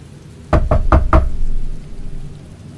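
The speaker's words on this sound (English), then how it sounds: "if you hear knocking later," Four sharp knocks on a door in quick succession, loud and close, followed by a low steady rumble like rain in the background.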